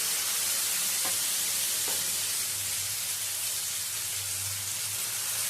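Leftover rice pancake batter hits a hot pan brushed with white oil, setting off a steady, close sizzle and hiss that holds for several seconds with faint scraping along the way, no voices.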